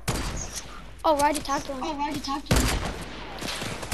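Rapid video game gunfire crackles in sharp bursts, with a sustained volley near the end, while someone talks over the shots.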